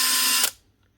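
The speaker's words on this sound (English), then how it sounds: "It should go up through the speeds nice and smoothly as you push on the trigger." A Makita impact driver with a faulty, broken trigger switch whirs loudly and steadily for about half a second, then cuts out abruptly and winds down into near silence.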